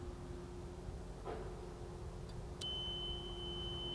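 An overload alarm horn on a motor starter sounds as a sudden steady high electronic tone that starts partway through and holds, over a constant low machinery hum and background noise.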